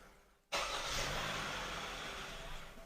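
A Kia or Hyundai car engine cranks and catches abruptly, then runs with a steady broadband roar that slowly fades a little as it stalls out, heard close from inside the vehicle.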